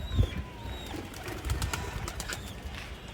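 Two visiting pigeons coo softly and repeatedly at close range in low, throaty bursts, with no talking.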